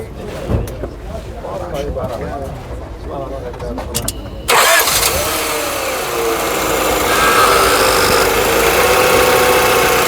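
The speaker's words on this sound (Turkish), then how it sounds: "bak şimdi araba sesini dinleyek" People talk over faint clatter, then a Honda Accord's engine cranks and catches abruptly, settling into a loud, steady idle that fills the rest.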